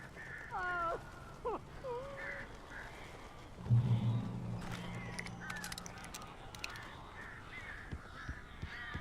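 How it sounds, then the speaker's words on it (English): Crows caw in the Alan Wake video game, a few harsh calls early on, then a low droning rumble and scattered clatter with a voice speaking in the background. "These birds are weird."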